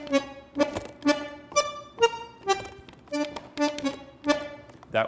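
A tango melody plays staccato on what sounds like a piano, with about a dozen short, sharp, detached notes in a steady rhythm, clear and close with no talk.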